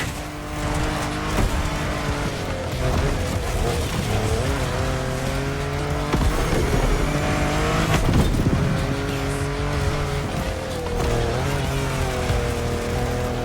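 In The Crew Motorfest, a car driving off-road makes a continuous loud engine drone that rises and falls with throttle, with scrabbling tire noise, rough impacts and brief thuds.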